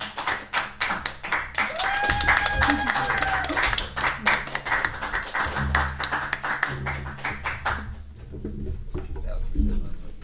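An audience claps after a song, a dense run of hand claps that holds steady for about eight seconds and then fades away, with voices talking over the clapping throughout.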